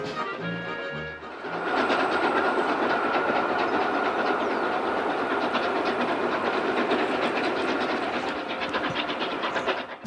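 Rhaetian Railway extra train hauled by steam locomotive G 3/4 11 on the Albula line, a steady loud rumble of rolling wagons with hiss and clatter building after a quieter start and continuing throughout.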